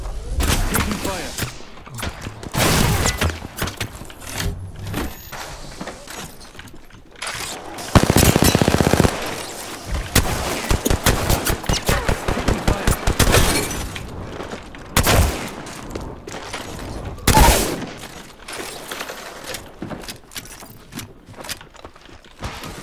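Bursts of automatic and single-shot gunfire in Apex Legends, rapid rattling volleys and sharp loud shots coming in clusters amid game effects, with a player talking between the exchanges.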